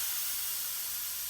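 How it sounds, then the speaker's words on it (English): Steam hisses steadily from the open blowdown valves on an Allen Mogul locomotive, a loud, unbroken broadband rush with no talk over it. "The hissing noise you hear now is the blowdown valves being open."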